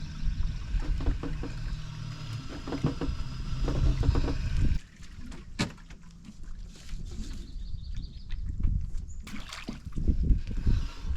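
A dinghy moves across the water of a British Columbia cove to run a stern line to a shore ring. Close splashing and sloshing, with knocks and rattles from the small boat and no voices.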